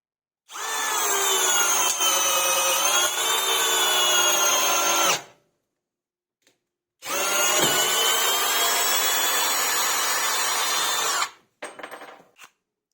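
Two 12 V cordless drills, a Parkside Performance PBSPA 12 C3 and a Bosch Professional GSR 12V-35 HX, run fully charged in first gear at maximum torque setting. Two long, steady, loud whining runs are separated by a pause, followed by a few brief bursts.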